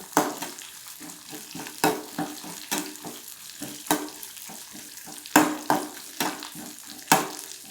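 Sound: green chillies frying in a pan

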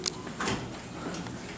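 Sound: elevator door operator opening the doors

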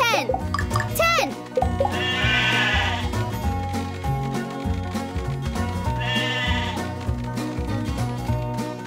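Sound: sheep bleating in a video game

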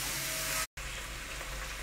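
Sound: meat being fried with onions in a pot

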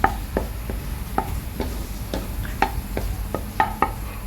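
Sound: egg being stirred gently with a spatula for fried rice

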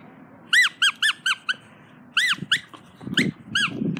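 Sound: dog playing with a squeaky ball toy

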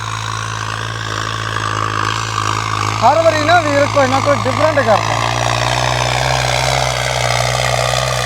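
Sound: modified New Holland 3630 tractor engine running

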